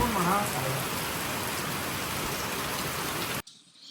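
Heavy rain falls steadily as a dense, close roar for several seconds, with a brief voice at the start, before cutting out abruptly near the end.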